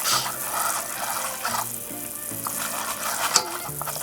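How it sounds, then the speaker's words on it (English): On a stove turned up to high heat, a sugar mixture for apple pie filling bubbles and sizzles in a pan, a busy crackling fizz that stays loud and close throughout, with no voices. "As you can see, it's bubbling up quite a bit."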